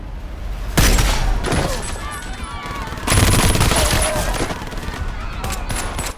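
Heavy film gunfire erupts during a bank heist in a tower lobby: loud bursts of rapid shots and booming impacts, with a pause before a second intense volley, dense and close throughout.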